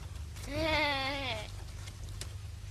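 A single goat bleats once, a clear wavering cry lasting about a second, close and fairly loud over a low background hum.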